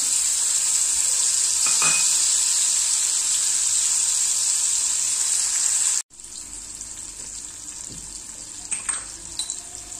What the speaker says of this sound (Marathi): ह्या ज्या स्वच्छ धुतलेल्या कोळंब्या आहे ह्या याच्यामध्ये छान परतून घ्यायच्या आहे आपल्याला